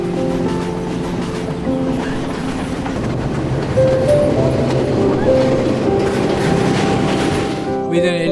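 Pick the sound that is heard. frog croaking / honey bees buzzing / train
train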